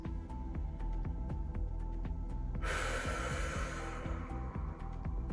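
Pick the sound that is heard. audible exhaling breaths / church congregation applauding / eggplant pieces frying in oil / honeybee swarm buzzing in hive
audible exhaling breaths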